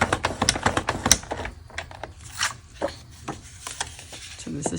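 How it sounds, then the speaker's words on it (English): Cardstock is scored and folded in half for a handmade card, heard as a run of close, crisp taps and scraping rubs, irregular and quiet, with no voices. "So we're going to score it at 4 1/4, which is in half."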